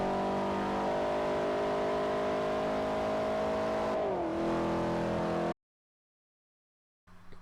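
A car engine in the Forza video game revs steadily and loud for about five seconds, its pitch dipping at a manual gear change before cutting to silence, then a brief rev returns at the end.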